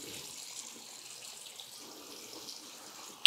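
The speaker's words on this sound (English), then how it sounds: "After that, you should gently rinse off the foam." Warm water runs steadily from a tap as foam is rinsed off hands, a soft, even hiss of flowing water throughout with one sharp splash or tap right at the end.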